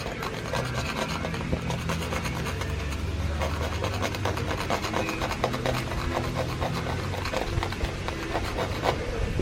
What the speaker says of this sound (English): Let me get this all scraped off